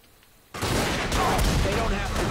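A building is bombed in The Godfather 2 video game, a sudden loud blast after a quiet moment that rolls into a sustained, rumbling roar of explosion and debris, with a voice faintly present.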